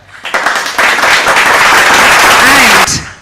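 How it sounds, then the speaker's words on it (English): Audience applause fills an awards ceremony hall at the e4m Prime Time Awards 2025: a dense, steady wash of clapping for nearly three seconds, with a voice speaking briefly over it near the end before it cuts off. "Let's give him a warm round of applause."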